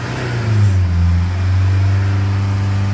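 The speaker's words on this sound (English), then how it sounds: "So we'll put this on the fast idle for a while." A Range Rover Evoque engine holds a steady fast idle during diesel particulate filter regeneration, a loud, close, continuous low drone with a slight rise in pitch partway through and no voices.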